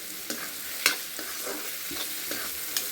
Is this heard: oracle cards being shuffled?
no